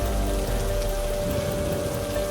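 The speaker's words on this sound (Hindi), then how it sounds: "बरसात हल्की होने लगती है।" Steady rain falling on a stormy night, a dense, even hiss of drops on surfaces that holds constant and fairly loud throughout, with no voices over it.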